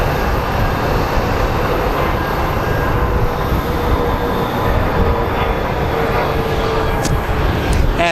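A 22-year-old United Airlines Airbus A320 at Phoenix Sky Harbor produces a loud, steady broadband engine rumble and roar, constant throughout with a faint whine above.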